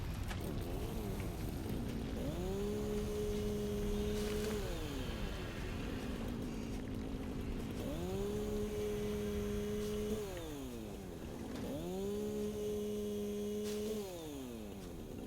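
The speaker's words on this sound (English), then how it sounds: "Let's get our chainsaw out too and chainsaw some of this stuff." A chainsaw in the video game Satisfactory cuts through vegetation in three repeated revving cycles, each rising to a steady whining pitch, holding, then falling away, against a continuous background rumble.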